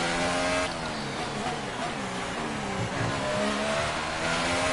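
Force India F1 car engine in the F1 2018 video game, a loud, continuous high-revving whine with shifting pitch as it drives on track, close and dominant, with faint talk underneath.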